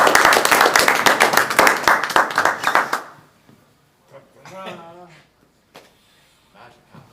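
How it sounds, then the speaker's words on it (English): Audience applause, a close burst of brisk clapping for about three seconds that stops abruptly, followed by people talking. "We already got applause coming here"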